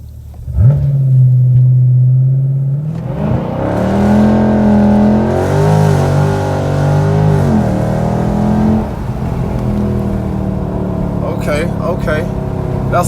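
A Dodge Charger Scat Pack idles, then its engine rises sharply in a launch control start at 2,000 RPM, roaring loudly as it accelerates through gear changes, with voices talking over it inside the car.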